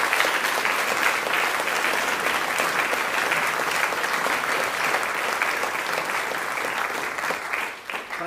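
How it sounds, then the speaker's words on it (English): Sustained, dense applause from a large audience at a Catholic high school senior awards ceremony honoring graduating students, steady and full for about eight seconds, tapering slightly at the end. "Let's give a round of applause to all of our students"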